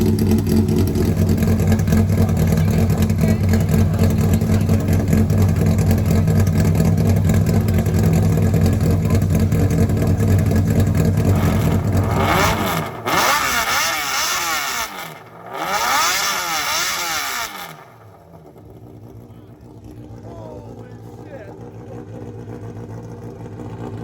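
Corvette engine at a Polish drag event revved hard for about twelve seconds at a loud sustained roar, then blipped twice in quick rising and falling sweeps before dropping to a quieter idle.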